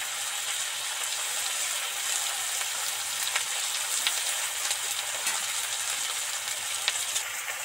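Ginger paste sizzling in hot oil over fried potatoes and tomatoes in a pan, giving a steady, dense hiss with small crackling pops throughout, close and moderately loud with no talking.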